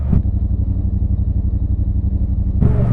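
A motorcycle engine runs steadily up close with a pulsing mid-low drone throughout, no talk over it, with a brighter surge near the end as it moves by.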